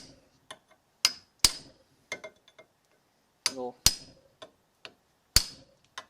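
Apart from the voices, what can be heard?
hammer striking punch to drive out bushing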